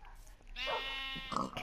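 Sheep bleating in the Minecraft video game, one sustained wavering bleat heard clearly and close, with a brief voice and game noises around it.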